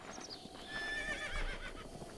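A horse in The Legend of Zelda: Breath of the Wild gives a short whinny with a few hoof clops, quiet and brief, with no talking over it.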